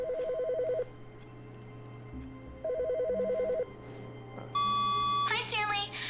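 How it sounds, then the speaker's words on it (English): A telephone rings in The Stanley Parable game, two repeated electronic ring bursts over a low steady hum, followed by a brief beep and a higher warbling tone at the end, with no talking. "There's a phone ring."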